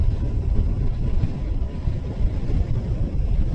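A Honda CBR 650F sports tourer being ridden, with a constant low engine drone mixed with heavy wind buffeting across the short stretch.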